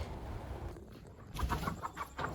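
Backyard chickens cluck in several short, soft bursts while being fed onions at a village home, the calls close but fairly quiet over a low ambient rumble.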